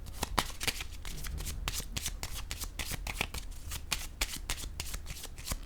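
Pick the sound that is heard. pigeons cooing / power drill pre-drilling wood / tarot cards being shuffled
tarot cards being shuffled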